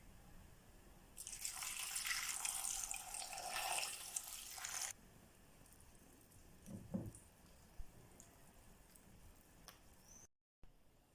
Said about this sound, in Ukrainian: заливаємо її холодною водою на 15-20 хвилин